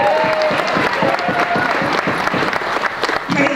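An awards-show audience applauds in a steady wash of dense clapping, with crowd noise and some voices mixed in throughout.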